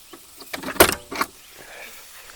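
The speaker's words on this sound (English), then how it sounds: "see if I can get the hood open" Hood of a 1981 C3 Corvette being worked open: a few close mechanical clunks and latch clicks, with one sharp metallic pop in the middle followed by another knock, then quiet rustling.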